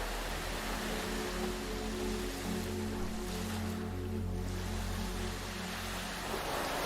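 Ocean waves wash onto a beach in a steady, enveloping roar of surf, with no distinct breaks between swells, soft and even throughout.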